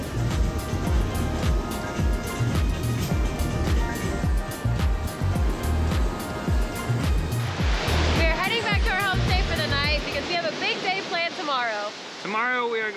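Ocean waves wash and rumble below a restaurant overlooking the sea in Barahona, Dominican Republic, a steady broadband surf that fades after a few seconds as a person begins talking over quieter background.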